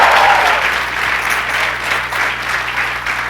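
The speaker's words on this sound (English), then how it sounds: "Let's give a huge round of applause to the GDG managers." An indoor audience at a developer-community event gives a loud, sustained round of clapping for the group's managers, dense and steady throughout.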